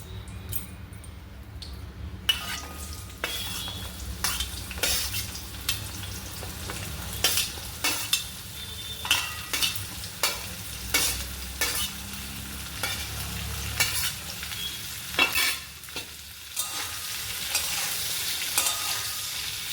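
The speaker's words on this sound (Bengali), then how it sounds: "এবার ওই তেলের মধ্যে আমি পটলটা দিয়ে দিচ্ছি।" Pointed gourd pieces fry in hot oil for a vegetable ghonto with raisins, giving a steady close sizzle with scattered crackles and scraping stirs throughout, and no voices.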